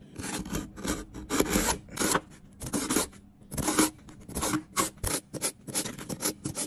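Knife blade drawn repeatedly through a three-stage pull-through sharpener with diamond, tungsten and ceramic slots, giving a series of loud rasping, scraping strokes in quick irregular rhythm, close up with no talking.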